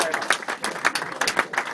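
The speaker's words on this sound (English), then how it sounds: "Give him a round of applause" A crowd at a Parliament chemistry launch event gives short, scattered applause for the minister, a few distinct claps rising over murmuring voices before fading.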